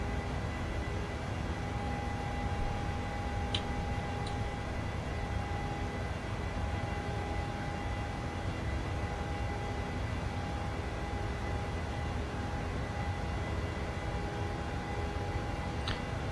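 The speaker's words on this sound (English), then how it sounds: "actually also a nice sound of the engines. You can hear the engines very nicely." Airliner jet engines drone steadily in flight in Microsoft Flight Simulator 2020, a constant broadband roar with a faint thin whine, even and unbroken throughout with no talk.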